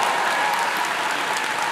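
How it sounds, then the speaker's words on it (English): Sustained applause with scattered cheering from a graduation audience at a university ceremony in June 2011, greeting master's degree candidates in applied mathematics as they rise; steady and fairly loud, with no talk over it. "Big cheer for"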